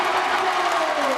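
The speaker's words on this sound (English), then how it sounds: "Packed crowd of 500 people enjoying a Saturday night of exciting big hits." A packed crowd of about 500 at a Saturday night Muay Thai boxing show roars and cheers loudly in one brief, dense burst of noise.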